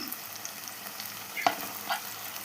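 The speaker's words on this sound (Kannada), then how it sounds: "ಇದು ಹಸಿ ವಾಸನೆ ಹೋಗೋವರೆಗೂ ಚೆನ್ನಾಗಿ ಫ್ರೈ ಆಗಬೇಕು." Masala paste for a Kerala-style fish curry frying in oil in a pan, a steady close sizzle with one brief stirring scrape midway, no voices.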